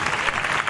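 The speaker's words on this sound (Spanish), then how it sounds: "Aquí aplaudís." A brief burst of audience applause at a musical talent show, dense and loud clapping from a crowd, cut off after a moment.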